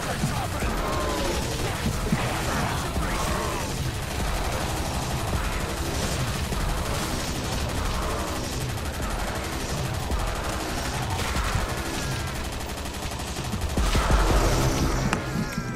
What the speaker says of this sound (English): The RPK is great to shoot.